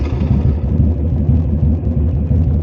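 A 2005 Victory Hammer motorcycle engine idles loud and close, a steady deep rumble with a throbbing low pulse that holds without a break.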